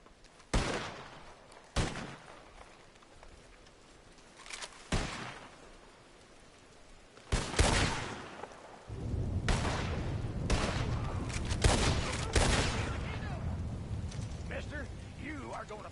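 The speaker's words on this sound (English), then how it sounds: "Who's shooting at us?" Gunfire in Red Dead Redemption 2, several sharp separate shots spaced a few seconds apart, then a rumbling denser stretch of noise with more bursts, with speech present.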